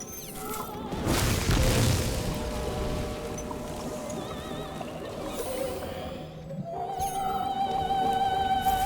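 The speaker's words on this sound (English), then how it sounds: "and then we get a secondary explosion" A secondary explosion goes off in Atomic Heart, a deep rumbling blast swelling near the start and then trailing into a sustained low roar with metallic tonal whines and synthetic effects layered over it.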